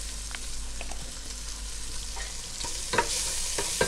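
A spoon scrapes and stirs softened mushrooms, translucent onions and spinach seasoned with Aromat in a pot, with a steady sizzle of frying beneath a few irregular scraping knocks.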